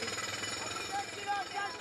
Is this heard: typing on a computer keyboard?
no